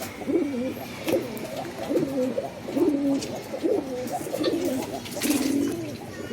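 Several pigeons coo repeatedly in steady, close, rhythmic phrases, offered as quality old-line birds for sale in Bangalore, with faint background noise between calls.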